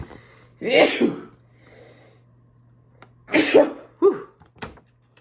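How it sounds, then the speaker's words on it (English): A close, loud sneeze, a pause, then a second sneeze followed by a short snort or sniff, in a quiet room. "a sneeze."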